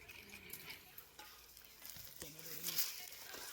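Tomatoes tossed into onions frying in a pan at an outdoor meal, a soft sizzle with stirring scrapes, faint and close, with a voice speaking over it.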